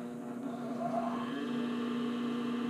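A sewing machine runs a straight stitch along a sports bra waistband, giving a close, steady motor whir that rises slightly as it gets going and then holds evenly.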